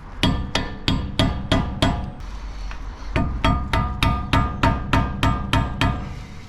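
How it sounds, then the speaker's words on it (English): A thin screwdriver is hammered between a wheel hub and its cap on a Toyota 90 Series Prado or 3rd Gen 4Runner, giving a steady series of sharp metallic strikes, about five, a short pause, then about ten more. "stick it in between the cap and the hub, and just start bashing until the cap starts coming off."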